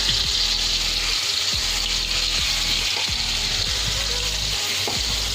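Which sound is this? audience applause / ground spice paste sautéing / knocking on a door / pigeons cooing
ground spice paste sautéing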